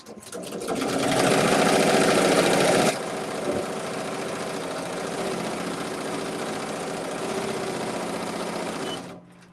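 An embroidery machine stitches a Valentine's Day design, a steady loud mechanical whir that is busiest for the first few seconds, then carries on slightly lower and even before stopping near the end.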